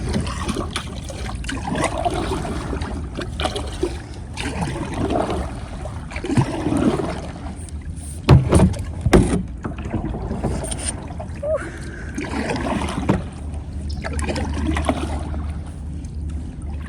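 A paddle splashes and dips repeatedly through shallow river water, with rushing, trickling flow and some bumps from a small kayak throughout.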